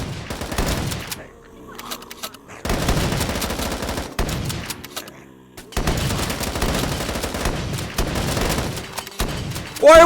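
Shotgun fire in the VR game VRChat, bursts of loud rapid gunshots and booms in several long volleys separated by brief pauses, with a voice talking faintly underneath.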